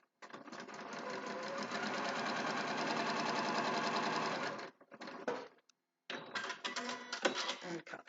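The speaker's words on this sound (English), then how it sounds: "Take it over to the machine, making sure that this fabric isn't folding as it goes underneath the foot." A sewing machine stitches fabric pieces for a quilt block at a shorter stitch length, running in one long steady buzz of rapid needle strokes, then stopping and starting again in shorter bursts close to the listener.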